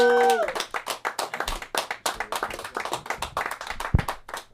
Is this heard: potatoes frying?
no